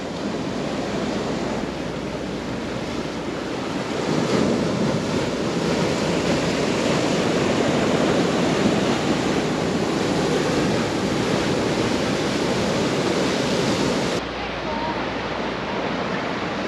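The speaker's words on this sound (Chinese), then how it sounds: "今天海浪很大" Big ocean waves breaking at Wushi Harbor in Toucheng, Yilan, a loud continuous roar of surf with steady rushing wash and rising swells, heard close and unbroken throughout.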